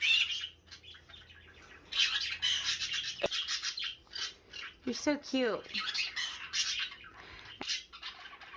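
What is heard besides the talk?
baby parrot chirping and squawking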